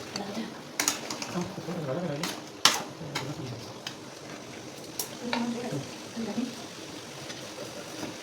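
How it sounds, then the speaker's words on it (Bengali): Chicken pieces being stirred and mixed with spices in a pan while cooking chicken kosha, with soft scraping and clinks of the utensil against the pan amid a low sizzle and a few sharper knocks. "মশলার সাথে চিকেনগুলো ভালো করে মিশিয়ে নিতেছি"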